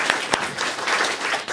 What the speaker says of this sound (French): Elle a réussi, vous pouvez l'applaudir rien que pour ça.